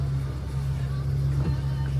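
A car driving along, a steady low engine hum heard from inside the cabin, with a slight bump partway through and no clear surge of acceleration.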